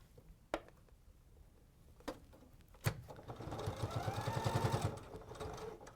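Domestic sewing machine running a short back stitch, a quick rapid burst of needle chatter lasting a couple of seconds after a few isolated clicks, fairly close and alone.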